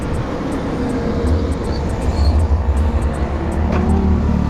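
A car being driven at speed on the road, with steady engine and road rumble that eases toward the end as it slows to a stop; no talk.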